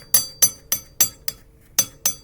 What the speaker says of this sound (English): And then you spin the lock nut off.